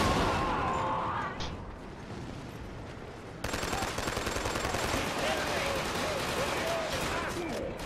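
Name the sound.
gunfire in a video game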